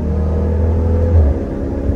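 A deep SRT Jeep engine rumbles steadily at close range, swelling briefly in a throaty rev before settling back to a low idle growl.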